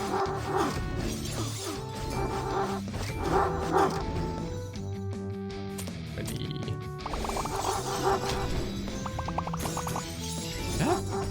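Dogs bark and yip in a video game, several short woofs scattered across a busy mix of game music and clattering effects, with a few crashes and a faint whimper along the way.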